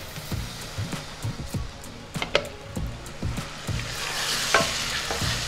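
Mutton kosha cooked Bengali style is stirred and fried in a pan: repeated close spoon scrapes over a steady oil sizzle in an irregular rhythm, with no voices.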